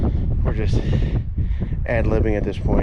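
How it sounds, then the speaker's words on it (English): Strong wind gusts roar and buffet the microphone on a mountain hike in Glacier National Park, loud and continuous under a person talking. "I just really wish the wind would die down because it is very strong today."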